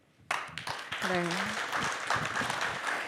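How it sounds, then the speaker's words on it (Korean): An audience of Vietnam War veterans and bereaved families applauds at a talk concert, with clapping starting abruptly and holding steady throughout and a voice speaking briefly over it. "박수 고맙습니다."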